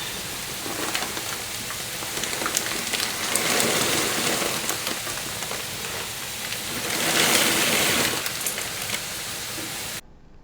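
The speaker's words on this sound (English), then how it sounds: "all right, the water's finally boiling." Noodles go into a pot of water at a rolling boil for a homemade Thanksgiving dinner, making a loud, continuous bubbling hiss that swells twice and then cuts off abruptly at the end.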